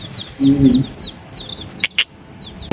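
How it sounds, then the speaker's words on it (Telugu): Young chicks peep in short, high, repeated chirps at moderate distance, with a deeper cluck from a hen and a couple of sharp clicks, no talking over them. "కోడి పిల్లలు ఉన్నాయే"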